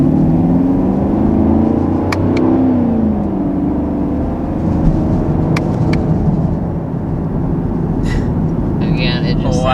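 A 2019 Chevrolet Camaro SS V8 revved in manual mode, a loud sustained engine roar rising and falling with throttle blips, with someone talking over it throughout.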